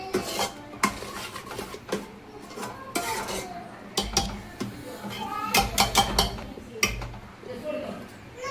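Masala stirred as it fries in a pan, with clattering spoon-against-pan scrapes and knocks in irregular bursts over a low background hum, close by.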